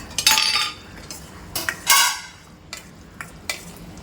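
Masala for an egg and spinach curry is stirred and fried in a pan, with a few loud close scrapes and bursts of sizzle from the spoon, separated by quieter pauses and light clinks.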